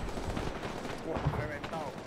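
Gunfire from other units during a firefight in ArmA 3, a short flurry of quiet, rattling shots in the background.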